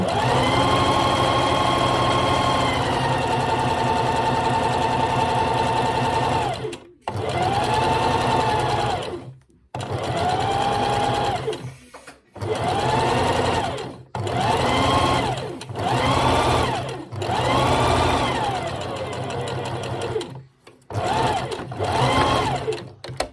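A sewing machine stitching a fabric seam in repeated bursts, running steadily at first, then stopping and restarting several times in short runs with quiet pauses between.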